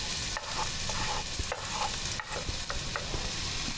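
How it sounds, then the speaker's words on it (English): Shallots sauté in melted butter in a pan, a constant close sizzle broken by regular scraping stirs, with no talk. "Just want to melt it so then we can saute our shallots in there and get them translucent."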